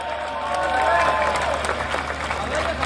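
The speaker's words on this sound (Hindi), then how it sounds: "एक बार उस बहन के लिए ताली बजाया।" A crowd at a village gathering for cows claps in applause for a woman, steady and dense for about three seconds, with some voices mixed in.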